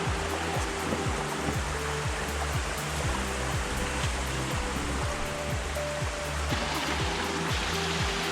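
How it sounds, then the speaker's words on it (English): Steady rushing splash of a small waterfall at a rural cottage in Italy, continuous and close with no voices, plus a regular low rhythmic knocking running underneath. "Look at that, there is a small waterfall."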